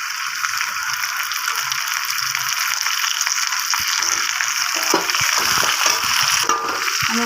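Pumpkin pieces fry in a hot pan for a fish-head vegetable curry, giving a close, steady high sizzle with scattered crackles and small scraping clicks.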